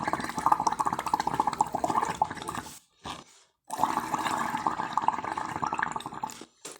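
Bubbling and gurgling as air is blown through a paper straw into soapy water, a steady close run of watery bubbling with a brief pause near the middle before it resumes.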